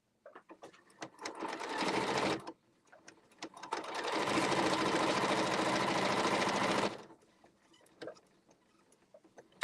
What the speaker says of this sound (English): I'm going to go ahead and sew a 1/4 inch seam all the way down